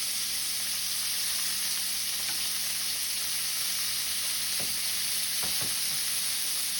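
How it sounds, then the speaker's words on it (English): Beef pieces searing in a hot pan for beef bourguignon, a steady broadband sizzle and hiss running the whole time, with a few brief scraping or stirring knocks near the end. "As you can see, we're getting nice caramelization, beautiful crust from the meat."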